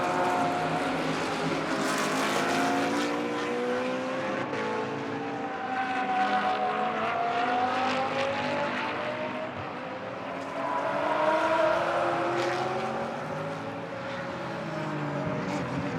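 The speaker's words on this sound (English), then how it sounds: "Porsche 997 GT3R out of the final corner, 10th at the moment." A Porsche 997 GT3R race car powers out of the final corner during practice at a Moscow circuit, its engine note rising and falling through gear changes, loud and sustained with other cars faintly behind.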